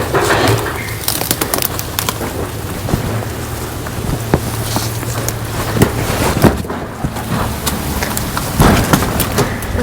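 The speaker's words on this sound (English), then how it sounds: "And a lightning strike." Outdoor storm in the Everglades near a boat: steady heavy rain patter with sharp cracks and rumbling thunder bursts following a lightning strike, birds calling faintly in the background.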